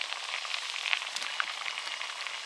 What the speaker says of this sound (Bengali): এবারে মাছ দিয়ে দিচ্ছি